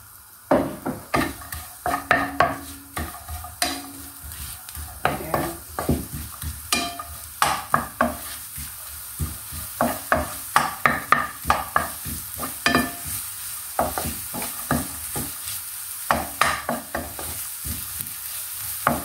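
Pork ear sisig with onions sizzles in a hot pan while a utensil stirs it in frequent irregular scrapes and clacks, close and fairly loud over a steady frying hiss.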